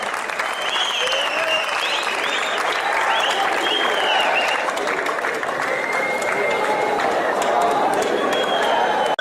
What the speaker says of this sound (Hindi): एक बार जोरदार तालियों के साथ विदाई दीजिए